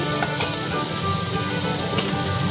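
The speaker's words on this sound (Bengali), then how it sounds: "আর দুটো বড়া দিয়ে ভাজা করে নিচ্ছি" Potatoes, onions and two fritters fry in oil in a pan, giving a loud, steady, dense sizzle that fills the whole moment with no talking.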